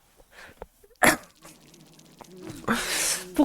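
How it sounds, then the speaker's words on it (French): A dog enemy in the video game Silksong, heard as a few sharp, close growling and barking bursts with sneeze-like snorts over quieter game sounds. "Oh! Ah non, il y a un chien."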